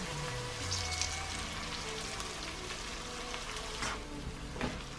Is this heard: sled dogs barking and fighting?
no